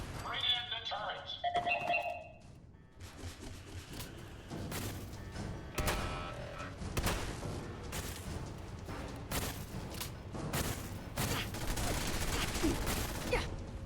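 Automated turret fire in Fallout 4: rapid bursts and rattling shots keep going for most of the stretch, over a steady layer of muffled combat noise and faint game voices, with some sharper cracks standing out near the end.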